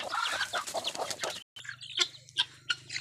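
Chickens cluck and chatter while being fed in the morning, a series of close, irregular clucks with a brief gap midway and a low steady hum underneath.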